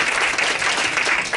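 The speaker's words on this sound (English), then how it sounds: "All of this applause is for you" A mind-reading show audience applauds, a brief, dense burst of clapping heard loud and close.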